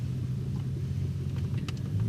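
Steady low road rumble from inside an Audi S8 with air suspension, cruising on a country road in comfort mode, a constant engine and tyre drone with no talking.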